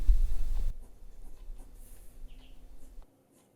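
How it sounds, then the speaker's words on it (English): A pencil sketches on paper at close range, a dense scratchy stroke at first, then lighter, fainter marks over quiet room tone before stopping. "as I'm sketching"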